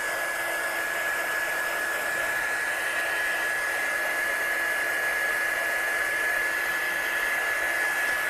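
A hair dryer blows hot air to dry ink on a craft project, a loud steady whooshing roar with a constant high whine, uninterrupted throughout.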